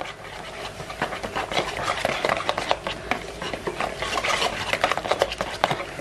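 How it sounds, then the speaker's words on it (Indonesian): A spatula or whisk works sifted flour into caramel sponge cake batter in a bowl, giving soft, wet, uneven scraping and patting strokes in a steady rhythm, close up. "Diaduk rata sedikit"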